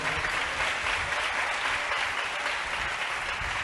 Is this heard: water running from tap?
no